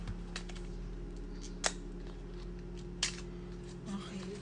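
A sealed package being cut open with scissors or a blade, with two sharp, distinct snips a little over a second apart and a softer rustle near the end over a quiet room hum.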